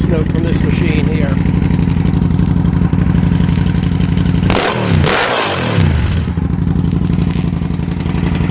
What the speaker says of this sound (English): crank this thing up for you guys so you can hear what it sounds like